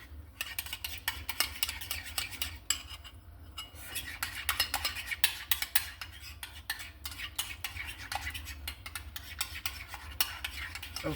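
A salad is mixed with mayonnaise in a bowl, with continuous close, faint stirring and clinks of a utensil against the dish.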